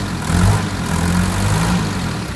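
Mercedes 190d W201 diesel engine settling after a rev, a steady low rumbling idle with a slight lift at the start, close and continuous with no talk.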